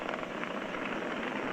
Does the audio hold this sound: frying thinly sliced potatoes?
no